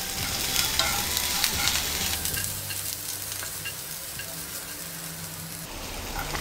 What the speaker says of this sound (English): We'll saute onions on medium flame.